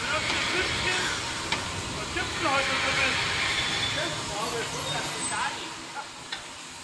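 A steam locomotive works along the Zittau narrow-gauge railway in autumn, its steady chuffing and rail rumble loud and close, with hissing steam running throughout the passage.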